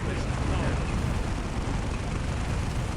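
Grenades detonate in the real-time strategy game Dawn of War amid a Blood Angels versus Chaos Space Marines battle, a dense continuous roar of blasts and rumbling combat, loud throughout.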